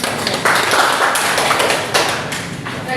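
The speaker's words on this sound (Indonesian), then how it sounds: "berikan tepuk tangan kepada kelompok" Classroom applause for a student group: a steady wash of many hands clapping together, fairly close and loud, lasting a few seconds without talk.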